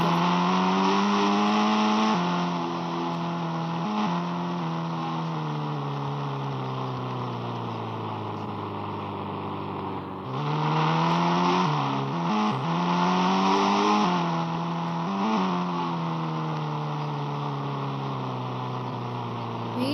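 A car engine drones steadily in the Indian Bike Simulator video game, its pitch rising and falling through gear changes, with a deep dip and fresh revving around the midpoint, loud and continuous with no talk.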